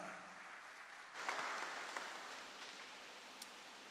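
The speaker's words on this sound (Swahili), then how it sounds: "Wanaonielewa wangeongeza tena makofi kwa Bwana." A church congregation at a Lutheran parish seminar in Kijitonyama bursts into steady applause, a dense wash of clapping that swells after a moment and holds evenly throughout.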